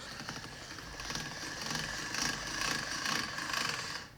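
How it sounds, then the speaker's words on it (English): Hand-cranked pasta machine on its widest setting rolling semolina-dusted fresh dough, a steady dense mechanical whirring and ratcheting of turning gears, close and continuous with gentle swells in loudness. "I've got my pasta machine set on number 1, which is the biggest setting on this"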